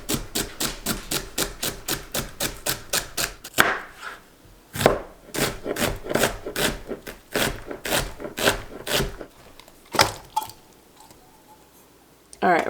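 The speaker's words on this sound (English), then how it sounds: "I'm going to go ahead and chop an onion, celery, mix up the sour cream, get my cream of mixture going." A knife chops onion and celery on a cutting board in a home kitchen, with steady rapid knocks in quick bursts and brief pauses, close and loud, alongside occasional scraping.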